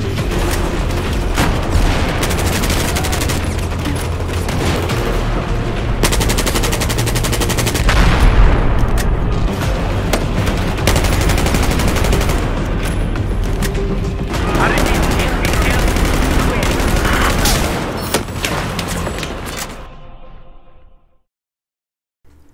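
Sustained, loud bursts of H&K 416D assault rifle fire in Battlefield 4 overlap with explosions and dense combat noise for about twenty seconds, then cut off abruptly into silence.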